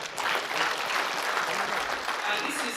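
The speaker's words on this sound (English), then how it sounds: "Let's clap for them." Applause from an audience at a school annual general meeting, a steady patter of clapping filling the room with a voice faintly under it.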